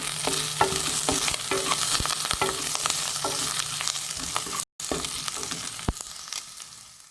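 Curry leaves fry in a pan with beef liver, a steady sizzle broken by repeated clanks of a spoon stirring, close and alone.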